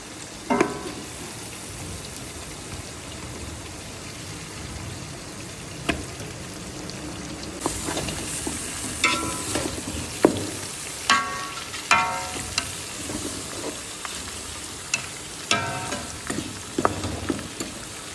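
Four large beef trotters, about 6 kilograms, fry in a pot with a steady close sizzle, joined by scattered clanks and scraping stirs that grow busier in the second half; no one speaks.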